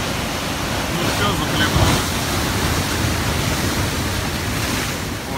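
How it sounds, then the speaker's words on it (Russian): Foamy sea waves crash and wash onto the shore in a steady broadband roar with a louder surge near the middle, mixed with wind noise on the microphone. "Пенистая вода. И с размаху их бросает."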